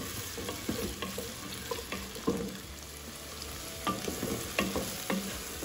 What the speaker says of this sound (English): So you want to fry them very well.